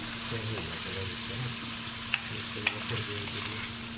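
Salsa chicken fries in a pan with a constant close sizzle and crackle, with a couple of sharp spoon clicks as it is stirred.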